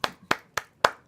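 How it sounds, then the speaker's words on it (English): On a talk show set, one person claps by hand: five crisp, close, evenly spaced claps in quick succession, with no crowd joining in. "Let me give you a roaring round of applause"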